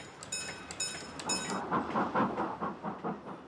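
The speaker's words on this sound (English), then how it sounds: "As they clanked and rattled along at 30 miles per hour" Goods wagons clank and rattle along a railway line at about 30 miles per hour, with a rhythmic clickety-clack of wheels over rail joints and sharp metallic squeals early on, heard fairly faintly in the distance.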